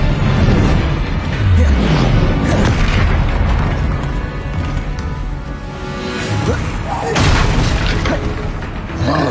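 A Confringo explosive spell blasts in Hogwarts Legacy, with a deep booming impact followed by rumbling debris and a second burst later. The sounds are loud and dense, layered over continuous game noise.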